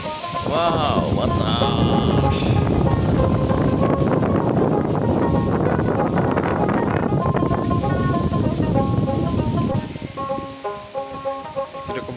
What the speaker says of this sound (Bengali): বাতাস রয়েছে একদম